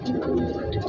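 A large high-flying pigeon with a numbered leg band coos in a Shahdara market, giving a short, low, throaty burble close to the microphone.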